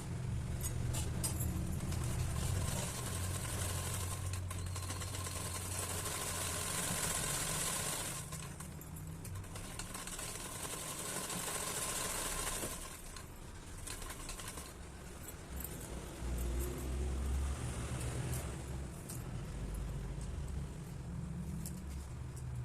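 A sewing machine stitches a blouse sleeve with a steady, fairly quiet whirring hum that runs in long stretches, pausing briefly twice before resuming.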